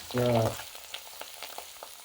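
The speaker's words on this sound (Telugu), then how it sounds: "మెంతాకు ఇట్లా గోలాలి మంచిగా" Fenugreek leaves fry in a pan with a soft, steady sizzle and light stirring scrapes, close up, after a brief low hum at the start; no one speaks.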